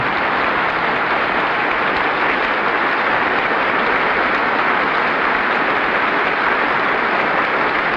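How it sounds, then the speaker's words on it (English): A full hall at the 1963 United Nations General Assembly in New York rises in applause for President Lyndon Johnson's address, a steady, dense roar of clapping that continues unbroken for about eight seconds on an old broadcast recording. "the entire hall rises to applaud."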